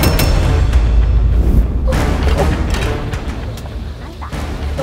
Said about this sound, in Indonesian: kalau pakai bambu emang suka meleduk, Mas Boy, kayak gini.